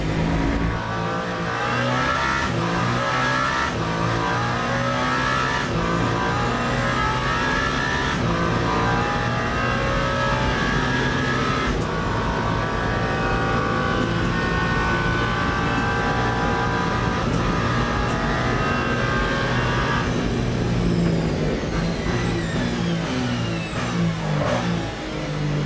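Le Mans race cars in the Le Mans Ultimate sim, engines roaring loud and continuous at the 24 Hours of Le Mans, revs rising and falling through gear changes with other cars close by, no voices over it.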